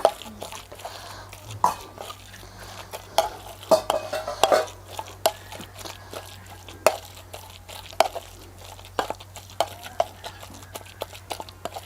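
Green chilli being mixed in a pan for bharit, brinjal mash, with a spoon or spatula giving repeated sharp scraping and clinking strikes against the metal, irregular and close, over a low steady hum.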